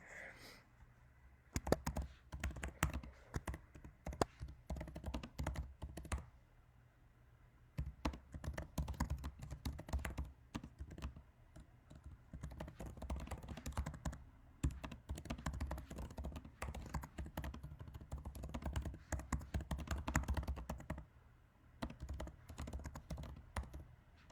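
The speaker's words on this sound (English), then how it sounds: "let me type that for a second" Rapid keyboard typing clatters in irregular bursts with short pauses between them, close and fairly quiet.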